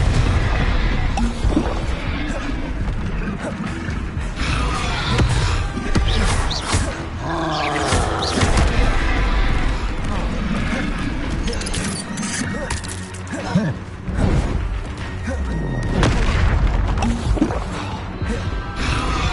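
Confringo explosive spell blasts in the Hogwarts Legacy video game: a dense, continuous stretch of crashing, roaring magical impacts and bursts layered with combat effects, steady and loud throughout.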